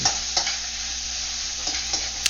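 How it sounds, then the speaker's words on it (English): Ground pork stir-fried on high heat in a wok for a Sichuan eggplant dish makes a continuous close sizzle, with a few sharp scraping stirs of a spatula. "every once in a while, I'll stir around the pork so that all the different surfaces are cooked in the wok"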